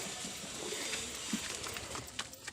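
Pigeons coo softly in a rooftop loft while they feed, a low murmuring steady through the clip with faint background noise.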